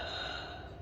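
A single short gasping inhale made by expanding the ribs with the airway closed, a close, strained, breathy rasp lasting under a second, alone without talk.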